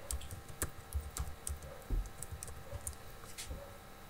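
Typing on a computer keyboard to enter text in SolidWorks, a quick, irregular run of close key clicks with no voices, recorded fairly faintly.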